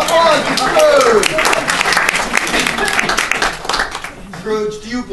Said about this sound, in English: Give a round of applause to Scrooge.